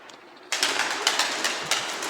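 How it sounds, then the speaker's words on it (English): Birds, probably pigeons, flutter and call inside an abandoned distillery building in Italy, a close, brief burst of rustling wingbeats and calls over a quiet echoing room. "I think the only ones living here are those birds. Making a lot of noises here, those ones."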